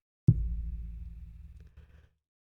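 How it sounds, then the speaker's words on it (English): A single dull thump on a microphone arm, followed by a low resonant hum that rings on for nearly two seconds before fading out. "Here's a normal sound that you might be used to of me hitting my microphone arm."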